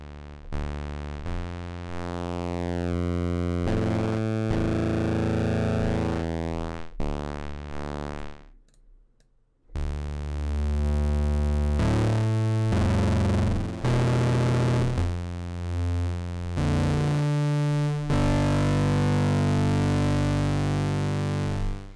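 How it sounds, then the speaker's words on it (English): Synth notes played through Ableton Live 10's Pedal device, switching among distortion types: sustained buzzy tones and chords that change character between phrases, with one brief drop to near silence partway through. "So let's just hear a couple sounds and just see what these things do,"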